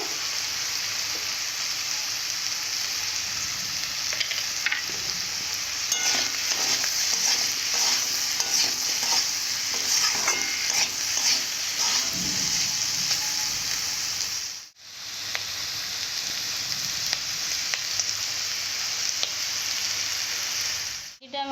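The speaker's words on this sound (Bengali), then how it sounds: "সবজিটাকে কিছুক্ষণের জন্য আমি এইভাবে নেড়ে চেড়ে নেব" Vegetables for Maggi masala being stirred in a frying pan, giving a continuous loud sizzle with rustling spatula strokes that pause briefly partway through and then resume, without talk.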